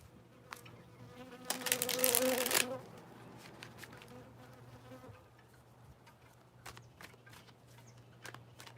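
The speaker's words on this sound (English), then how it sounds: "Hey, little bee." A bee buzzes close by in a loud burst that rises and fades, with a steady low hum underneath and scattered light ticks and shuffles afterward; no talking over it.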